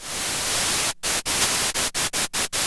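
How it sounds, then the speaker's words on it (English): Steady broadband hiss of white noise from a Behringer Pro 800 synthesizer's noise oscillator, loud and flat, chopped by several short silent gaps toward the end. "it's just a simple white noise"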